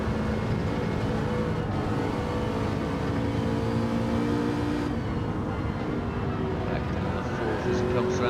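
A Gr.4 race car in Gran Turismo 7 at Watkins Glen accelerates out of a corner, its engine a continuous droning whine that climbs in pitch, with a brief shift in tone midway.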